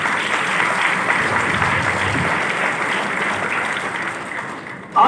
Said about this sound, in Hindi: तो जोरदार तालियां लीडर्स के लिए।